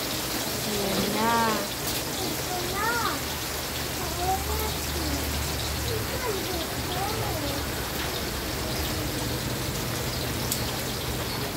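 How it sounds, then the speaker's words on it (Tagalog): Steady rain falls outdoors as a continuous, even hiss that fills the whole scene, while several voices talk and call out over it. "Yan guys, umuulan na."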